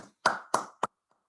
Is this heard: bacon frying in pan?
no